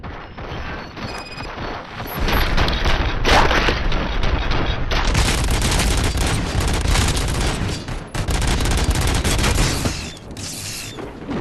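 RoboCop: Rogue City on PS5 unleashes a loud, sustained fusillade of gunfire and booming impacts, a near-continuous barrage with a brief lull midway before the shooting resumes.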